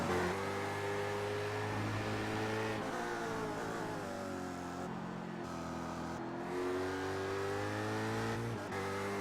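A race car engine runs on a track before its first lap, a steady mid-pitched drone that rises and falls in pitch as the car revs and moves, heard continuously with no talk.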